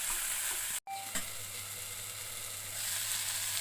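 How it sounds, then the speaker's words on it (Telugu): Garlic cloves and cashews fry in a pan on a home stove, making a soft, steady sizzle heard up close and quietly, with one brief dropout near the start. "దీంట్లో 4 వెల్లుల్లి రెబ్బలు, కొంచెం జీడిపప్పు వేసుకొని బాగా కుక్ చేసుకోవాలి."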